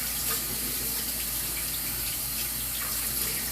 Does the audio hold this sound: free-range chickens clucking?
no